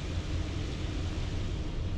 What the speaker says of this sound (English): You may be able to hear a fan in the background.